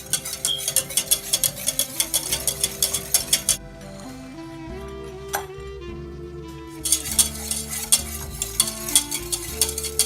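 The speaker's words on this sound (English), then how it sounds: "Now we're going to transfer it over low heat back to the stove top by whisking it." A whisk beats sauce in a pan over low heat on the stovetop, a rapid rhythmic scraping that stops for a few seconds and then resumes, with a quiet kitchen hum underneath.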